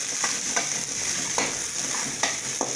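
Onions and tomatoes sautéing in a pan, a constant close sizzle punctuated by several sharp spatula scrapes and taps.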